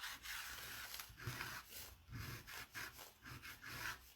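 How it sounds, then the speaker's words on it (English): Scissors scrape back and forth across oil pastel on paper in a waterfall drawing, a soft, close, rhythmic scratching with about a dozen short strokes. "we're just going to take it and just make some scratches in this light blue area"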